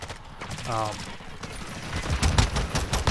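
Rapid bursts of 9mm Daemon pistol fire in a shooter video game, sharp repeated shots in the latter half with a short voice sound early on.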